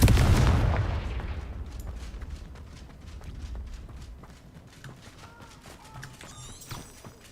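Confringo fire spell blast in the video game Hogwarts Legacy: one loud booming burst at the start that fades into a decaying rumble, followed by quieter scattered game clicks and effects.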